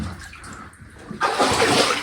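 Sloshing and splashing through silty water in a flooded old mine closed in 1897, quiet at first, then loud, close, continuous wading steps and churning water.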